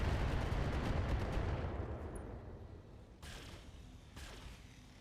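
Mech machine guns in a video game fire in a dense, rumbling burst that fades over a few seconds, followed by two sharp, distant bursts.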